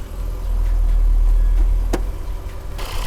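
A used car's engine runs with a fault, a steady low idle rumble close by, with a brief knock or tick partway through, alone.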